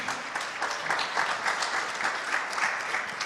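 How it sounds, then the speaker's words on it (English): A conference audience at a summit stage applauds, a dense, steady burst of clapping for the whole moment. "Big applause to Rory, please."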